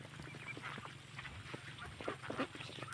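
Several ducks quack in irregular bursts against a busy outdoor background, fairly close and moderately loud.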